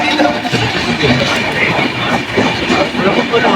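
Inside the 13153 Gour Express on the night run from Kolkata to Malda, still moving slowly near Bidhannagar Road, a steady loud rumble of wheels on rails fills the carriage, with faint voices in the background.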